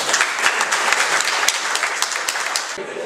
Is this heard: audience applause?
yes